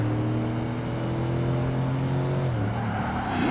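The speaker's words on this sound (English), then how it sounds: "we're using a Mercedes AMG SL55 or Mercedes SL55 AMG" Mercedes SL55 AMG engine in Project Gotham Racing 2 on the short right-hand Yokohama track, a loud steady drone that holds, then drops and rises as the gears shift, with a brief tire squeal near the end.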